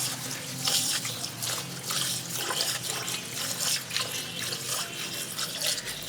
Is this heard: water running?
yes